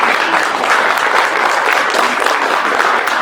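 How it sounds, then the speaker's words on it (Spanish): A church congregation claps loudly and continuously, a dense, close wash of many hands with no voices standing out. "Dele fuerte el aplauso al Señor."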